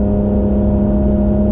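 A Lotus Evora GT410 sports car engine drones loud and close with a steady low humming tone, holding one pitch without any sharp rise across the short stretch, and no talking.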